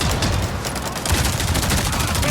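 Sustained bursts of gunfire crackle in Avatar Frontiers of Pandora, a fast, dense volley of shots repeating closely for a couple of seconds, loud and without speech.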